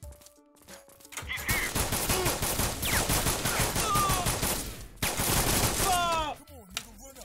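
Automatic gunfire in a shooter video game bursts in after a quiet opening, a long, loud, rapid stream of shots that continues for several seconds before cutting off near the end.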